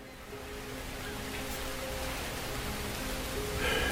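Steady rain falls as a dense, even hiss throughout, with a faint low hum beneath, setting a rainy morning in a port city for an audio drama.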